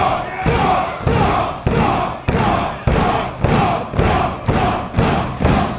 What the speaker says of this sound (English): Listen to this crowd, Bryce.